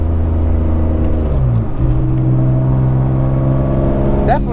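A BMW E36 M3 race car drives along back roads, its engine droning loud and steady up close, with pitch shifting as it changes gear mid-run and climbing again near the end.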